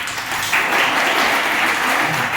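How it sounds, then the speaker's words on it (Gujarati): Loud applause from a crowd at a college commerce and management department farewell, dense steady clapping that lasts throughout. "ખરેખર જોરદાર તાળીથી વધાવો"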